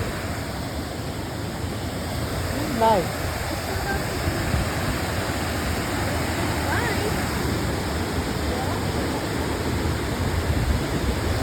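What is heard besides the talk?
waterfall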